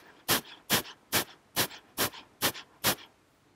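Sped-up rapid pranayama breathing heard close and alone, with seven short, sharp breath bursts in a steady, quick rhythm of about two per second.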